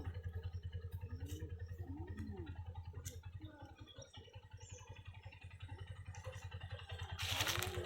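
A motorcycle engine idles and putters nearby during a beginner's riding lesson, a rapid pulsing thrum that dips briefly and then rises again, with some faint clatter and voices.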